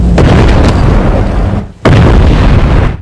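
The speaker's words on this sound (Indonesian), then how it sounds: "Baru tiba saja, Arya disambut dentuman bom." Bomb explosions in an action film set in a violent region: loud, dense booming blasts fill the scene continuously, broken by a brief dip in the middle before another heavy detonation roars back, with no talk over them.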